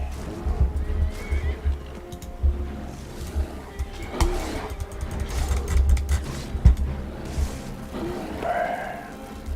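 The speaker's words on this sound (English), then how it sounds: "Don't kill a horsey." A horse in a video game neighs and whinnies several times, with clip-clop hoofbeats and other game sounds around it, and a soft voice speaks briefly.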